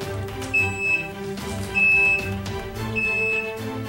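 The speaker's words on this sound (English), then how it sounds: "it goes beep, beep, beep when it's done" A Magic Chef portable washer sounds its cycle-finished alert: three evenly spaced, loud electronic beeps over a low mechanical hum, with no speech.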